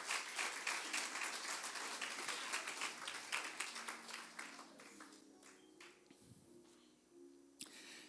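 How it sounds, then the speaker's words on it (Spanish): Applause from a church congregation at a Bible study, a dense patter of clapping that fades gradually over several seconds, leaving a quiet room with a faint low hum and one last stray clap. "Démosle un aplauso."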